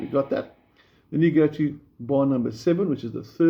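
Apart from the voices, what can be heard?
No everyday noise stands out behind the speech.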